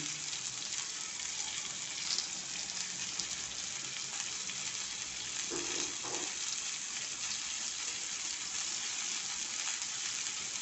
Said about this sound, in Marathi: अशा प्रकारे आपण सगळे हे फिश तळून घ्यायचे